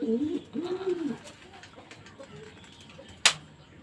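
A ringed racing pigeon coos a few low, rolling notes up close, then quiet background follows, broken by one sharp click near the end.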